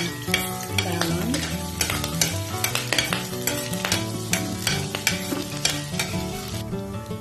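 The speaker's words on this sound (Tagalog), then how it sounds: "ilagay ko na po yung bawang" Garlic sizzles in a hot pan as stir-fried long beans with chicken are started, with a loud, constant frying hiss and busy, rhythmic clatter of stirring utensils against the pan.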